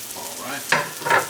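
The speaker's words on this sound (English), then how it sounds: "Ooh, nice little sizzle." Vegan mushroom burger patties sizzle in a pan, a soft frying hiss broken by two brief scraping stirs, close and alone without talk.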